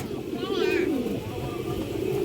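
A racer pigeon gives a short warbling coo under a person talking nearby, with steady background noise throughout.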